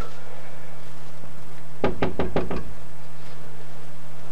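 Five quick, firm knocks on a door in a tight rhythm, then quiet with a steady low hum underneath.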